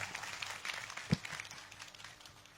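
A crowd at a live Gujarati comedy show clapping together, a dense, fairly faint patter of applause with one sharper thump partway through.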